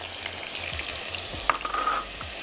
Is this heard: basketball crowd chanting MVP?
no